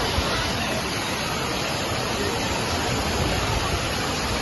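Kodiveri Falls sends out a steady broadband rush of falling water, an even, unbroken hiss at moderate level with no voices over it.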